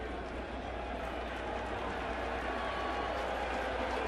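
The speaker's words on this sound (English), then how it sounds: "So a derisive cheer as Girardi will take out Freddie Garcia, and" A large ballpark crowd at a 2012 baseball game gives a derisive cheer as a pitcher is taken out, a steady, sustained wash of noise, loud and continuous without breaks.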